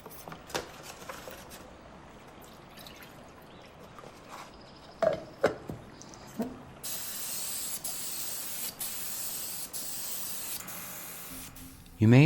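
Lacquer sealer is sprayed onto an antique dresser in a steady, close hiss lasting several seconds, preceded by a few scattered clicks and handling knocks, with a voice talking under part of it.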